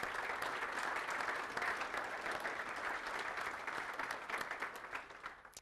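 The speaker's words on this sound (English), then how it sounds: "Can we just give them a round of applause for testing and patches they sent me?" A conference audience at a Nagios 4.0 talk gives a steady, dense round of applause that holds for several seconds, then thins and tapers off toward the end.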